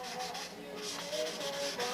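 Close, repeated scratchy rubbing strokes of sandpaper sanding silver paint off a model airplane, back and forth in a quick, uneven rhythm.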